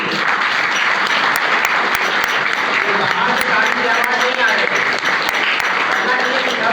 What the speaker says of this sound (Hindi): क्या मैं नहीं करूँगा तालियां नहीं बजेगी?